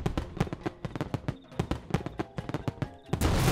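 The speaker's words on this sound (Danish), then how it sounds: "Vi er nået til alle kanonslagene." A rapid, irregular barrage of loud kanonslag firecrackers cracks close by, dozens of sharp bangs overlapping in quick succession before ending in a sustained crackling roar.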